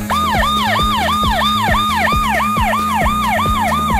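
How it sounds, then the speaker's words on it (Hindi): A loud electronic wailing siren from a mobile phone's anti-theft alarm cycles rapidly up and down in a steady repeating pattern, with a pulsing low tone underneath, continuous throughout. "चलिए तो किस तरह साइरन बजने लगेगा।"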